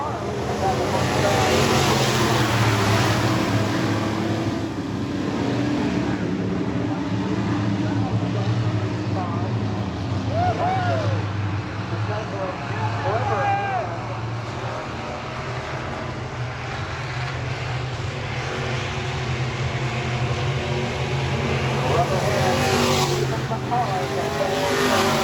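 E-Mod race cars roar side by side around a speedway, a dense, sustained engine drone with rising and falling passes, heard under a track announcer's running commentary.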